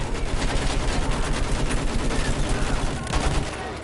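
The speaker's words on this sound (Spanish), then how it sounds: "¡Cañón de campo! ¡Dispare!" Field cannon fire in the video game Battlefield 1, a dense, continuous barrage of booming blasts and crackling gunfire layered together at steady loudness, easing slightly near the end.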